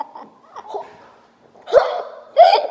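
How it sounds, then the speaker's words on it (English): A person hiccups, with two sharp, abrupt gulping catches near the end following some softer throaty sounds, close and loud in an otherwise quiet space. "You've got hiccups."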